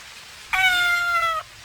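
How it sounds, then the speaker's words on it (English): A single clear cat meow, close and loud, held for almost a second against a quiet background. "why is there a cat in here?"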